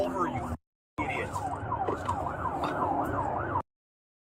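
Police sirens wail in a rising and falling pattern during a pursuit, loud and close, broken by two brief silent gaps, with traffic noise underneath.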